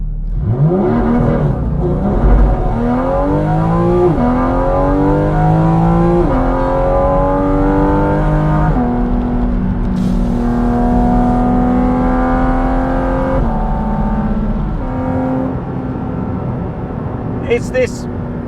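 Porsche Cayman GT4 RS with a 9,000 RPM redline, its engine rising loud and close through repeated upshifts, each climb in pitch cut off by a step, with sharp pops and crackles near the end.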